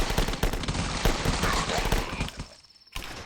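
Rapid automatic gunfire from the old shooter game The Last Stand rattles in a dense, loud burst for over two seconds, then breaks off briefly before another shot at the end.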